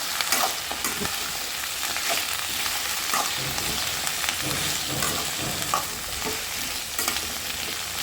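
About half a kilo of vegetables sautéing in hot oil for sambar rice, a dense, even sizzle that stays loud and continuous, with frequent scraping and stirring knocks of a ladle against the pan.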